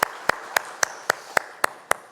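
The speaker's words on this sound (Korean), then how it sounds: "하나님께 영광의 박수 올려드리겠습니다" A church congregation claps in slow, evenly spaced single beats, about four per second, sharp and close with brief quiet gaps between.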